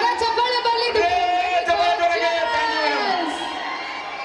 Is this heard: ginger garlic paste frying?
no